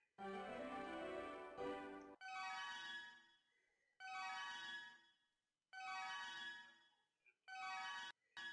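Repeated phone notification or ringtone chime sounding in short melodic bursts with brief gaps between them, close and clear with no talking over it.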